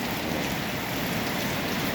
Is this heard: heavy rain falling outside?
yes